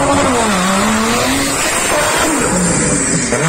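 A Chevrolet Caravan is driven hard, its engine roaring loud and steady close by with tires squealing and skidding throughout, no talk over it.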